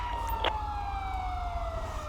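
Police siren from the game GTA 5 with LSPDFR, a steady wailing tone sweeping slowly downward, loud and continuous over low engine rumble, with no talking.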